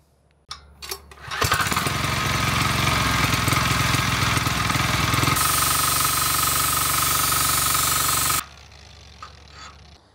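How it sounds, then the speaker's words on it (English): An angle grinder gently cleans the shaft of a cheap 247cc diesel engine so a pulley will fit. After a few brief knocks, the loud, steady grinding whine runs for about seven seconds, changes tone midway, then cuts off abruptly. "I'm just gonna take a grinder and very gently clean this off until this fits on there"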